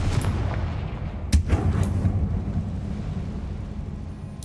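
The Confringo spell explodes in Hogwarts Legacy with a sharp blast followed by a couple of rumbling booms, then a low roar that fades away.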